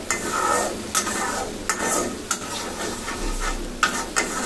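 Spiced loitta fish curry stirred in a pan, with repeated spoon scrapes and knocks over a steady sizzle of frying masala, close and fairly loud, no voices.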